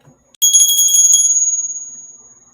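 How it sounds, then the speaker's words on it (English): A single sharp strike on a small bell, like a bicycle bell, gives a bright metallic ring with a quick flutter that fades out over about two seconds, loud and close, with no voice. "you ring the bell on that."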